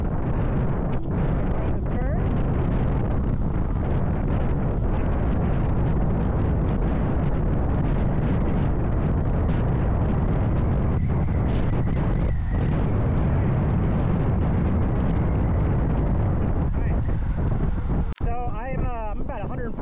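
A Spark Javelin 4 kilowatt electric motorbike being ridden, with loud, steady wind buffeting and road rush dominating throughout, its motor lost in the broadband roar until a brief disturbance near the end.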